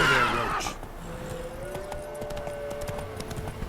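Roach, a horse in The Witcher 3, gives a loud whinny at the start, then clip-clop hooves run steadily under a held high tone, with a faint background score.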